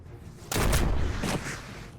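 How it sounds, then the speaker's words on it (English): A weapon fired in the steampunk tactics game Shardpunk: Verminfall: a sudden loud blast with a rolling tail, then a second sharp report about a second later, fading into a lingering rumble. "So I can take the shot, like I said, but it will overheat my gun."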